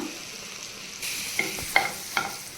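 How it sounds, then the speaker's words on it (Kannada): Chopped garlic sautéing in a pan for pasta, a soft sizzle that swells after a second, broken by a few sharp spatula scrapes and clinks. "ಗಾರ್ಲಿಕ್ ಒಂಚೂರು ಬ್ರೌನಿಶ್ ಕಲರ್ ಬರೋವರೆಗೂ ಸಾಟೆ ಮಾಡ್ಕೊಳ್ಳೋಣ."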